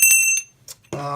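An old metal bell, dug up while metal detecting, rings in a few bright metallic strikes, a brief quiet gap, then one louder sustained ring with lingering tones.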